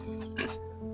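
A single short pig oink at a small farm pen, faint and brief against a steady electrical hum.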